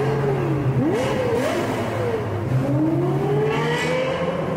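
Lexus LC500 convertible's engine revs up and down several times, its pitch sweeping up and falling back in repeated rising and falling runs, heard close and loud against steady road or wind noise.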